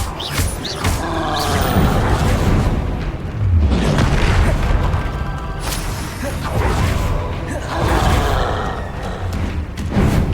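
Fiery Incendio and Confringo spell blasts in the Hogwarts Legacy video game, loud rumbling booms and crackling bursts in repeated surges over busy combat noise, with a voice calling out spells.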